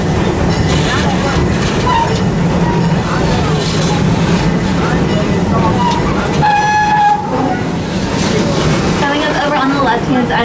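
A loud, steady rumble of the Serengeti Express theme park train at Busch Gardens Tampa rolling along its rails, continuous throughout, with a voice speaking over the noise.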